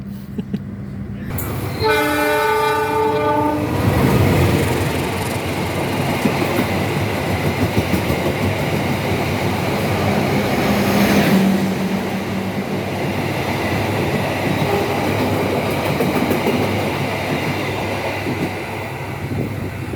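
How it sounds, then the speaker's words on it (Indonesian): A KA Kamandaka passenger train rumbles past another train close by at Gumilir station, with a steady roar and rattling wheels, a horn blaring briefly near the start. "Ini sepertinya akan bersilang dengan kereta api Joglo Semarkerto"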